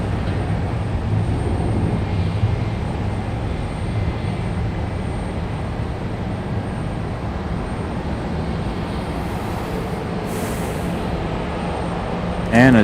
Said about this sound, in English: a Delta 737 taxiing out right behind it